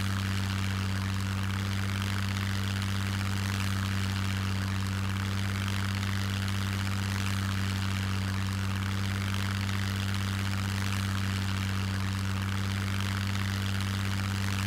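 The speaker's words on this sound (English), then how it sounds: "The airplane doesn't have the miss in the motor anymore." Steady drone of a propeller airplane engine in the survival video game SCUM, a continuous loud hum holding evenly throughout with no breaks, alone without talk.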